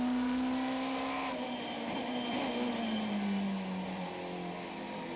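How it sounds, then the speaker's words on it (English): Super Touring cars race at Kyalami in 1995, a Toyota Camry among BMWs, one car's engine holding a loud sustained note that slowly drops in pitch as it passes close by, with other engines droning beneath. "He locked up the brakes on the Toyota Camry, but Taylor has got past van der Linde"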